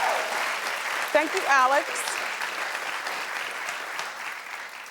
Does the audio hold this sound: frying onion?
no